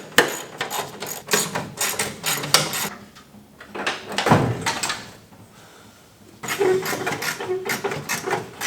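A car radiator is pulled out during an engine swap, giving a series of clanks, scrapes and rattling metal and plastic knocks in bursts with short pauses between them.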